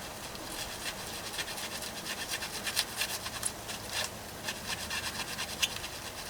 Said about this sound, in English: I'm using that file to scrape with.